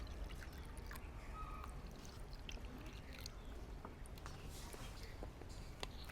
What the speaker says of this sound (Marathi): ह्या वाटीनीच पाणी टाकतो आहे